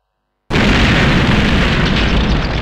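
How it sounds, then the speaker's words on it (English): A spirit bomb explodes in The House of the Dead 2 video game: a sudden, loud, full-bodied blast that bursts in after a moment of silence and roars on without fading. "That's a fucking spirit bomb"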